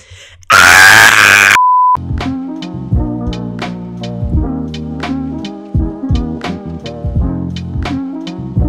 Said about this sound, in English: Insert the CSI Miami scream.